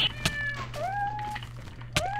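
Minecraft cat from the Technic pack meows in short rising and falling calls, several in quick succession with brief sharp clicks between them, over a low steady hum.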